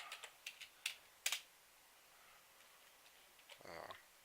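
Five or six separate key taps on a computer keyboard, close and sharp but sparse, then a pause before a few soft clicks and a brief tonal chime from a video game.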